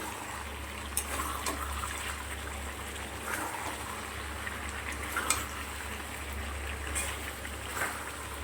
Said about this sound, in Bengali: পরিমাণ মতন জল দেবো।